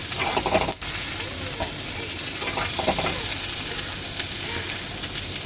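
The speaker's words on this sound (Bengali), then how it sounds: "আমার এঁচড় ভাজা হয়ে গেছে" Pieces of young jackfruit fry in hot oil, giving a continuous close sizzle with occasional stirring scrapes and a brief dip in the crackle.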